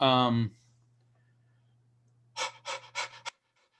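A man demonstrating during an evening of spirit communication imitates rapid, shallow breathing with a short run of quick, close breathy pants after brief talk and a pause.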